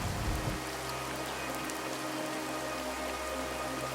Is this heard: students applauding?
no